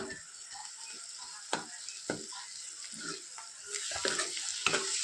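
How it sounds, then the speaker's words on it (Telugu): Garlic and spinach fry in a pan while being stirred, giving a soft bubbling sizzle broken by scattered scraping strokes that grow a bit louder and busier toward the end. "ఎల్లిపాయలు అయితే మంచిగా ఫ్రై అవుతున్నాయి"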